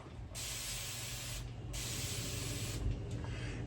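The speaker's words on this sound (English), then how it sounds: "I like to just spray it a good amount on the cloth" Protective product sprayed from a can onto a cloth while restoring a firearm: two steady, close hissing bursts, about a second each, with a brief pause between.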